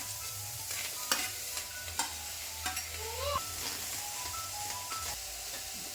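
Raw green tomatoes fry on a hot roti griddle, giving a low, steady sizzle with several sharp tapping and scraping strokes from stirring; no one speaks.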